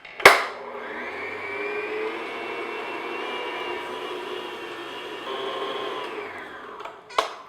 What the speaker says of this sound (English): I'm just going to beat these medium speed just until they get mixed up kind of frothy